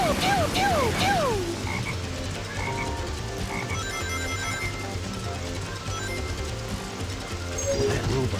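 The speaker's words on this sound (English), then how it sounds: "There's a frog over there!" A frog in the Lost Jungle stage of Sonic Heroes on GameCube, with a few quick croaks up front and then a throbbing croak pattern over game music and effects that continues to the end.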